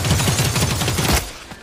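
Rapid automatic gunfire from The Cycle: Frontier, a quick rhythmic burst of about ten closely spaced shots that stops abruptly, followed by a faint tail.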